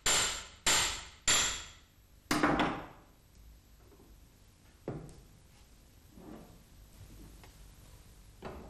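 Light hammer blows knock a needle bearing bush out of a Walterscheid clutch yoke clamped in a vise: four sharp metallic strikes in quick succession, then a few softer, scattered knocks.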